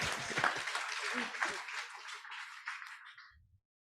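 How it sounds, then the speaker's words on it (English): Brief round of applause for a team at a talk, broadband clapping mixed with voices that fades out after about three seconds. "Give them a round of applause."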